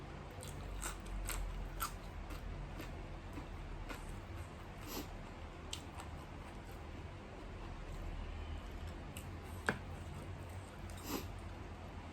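Someone chews crunchy moo yor pork sausage in som tam, giving a run of close, sharp, irregular crunches and bites over a soft, quiet background, with no speech.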